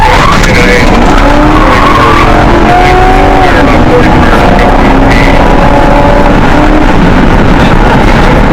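A stolen police patrol car speeds off with tires squealing and skidding, a loud, close engine roar with wavering squeals throughout and a voice talking briefly underneath.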